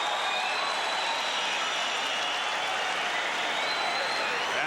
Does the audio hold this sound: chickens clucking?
no